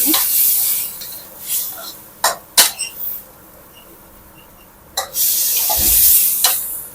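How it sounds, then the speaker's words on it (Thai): Pork stir-frying in a pan with curry paste, a utensil scraping and stirring in bursts with soft sizzling and wet splashes between strokes, close and intermittent. "รวนหมูให้หมูสุกนะเจ้า"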